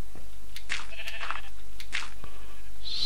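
Sheep in Minecraft Tekkit give two short, nasal bleats about a second apart, loud and close over a quiet background hum.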